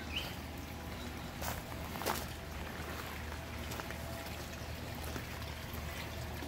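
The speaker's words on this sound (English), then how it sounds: "the swirl filter is fully running" Water flowing through a homemade swirl filter on a fish pond, a constant close trickling, pouring wash with a few brief splashes and knocks, no talking.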